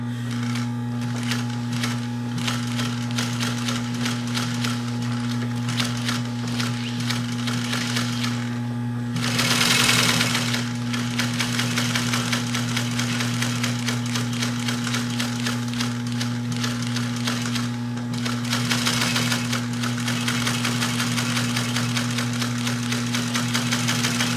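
A sewing machine stitching, a loud steady mechanical whir with a rhythmic needle knock running continuously close up, with short pauses and surges in speed.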